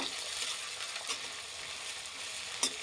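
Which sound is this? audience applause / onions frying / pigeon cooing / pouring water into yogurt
onions frying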